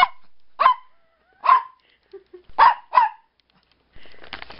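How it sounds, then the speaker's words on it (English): A small dog barks sharply five times in short, spaced yelps, close and loud indoors at night, with quiet gaps between and faint rustling at the end. "This is my dog, ladies and gentlemen."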